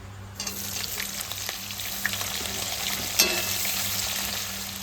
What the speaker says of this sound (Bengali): মাংসর জন্য তেজপাতা শুকনো লঙ্কা জিরে পেঁয়াজটা দিয়ে দেবো